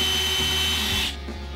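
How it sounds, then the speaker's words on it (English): A power drill bores a 1/4 inch hole through the center of a tall plastic bottle cap, a loud close whine that cuts off abruptly near the end. "Drill a 1/4 inch hole in the center of a tall bottle cap."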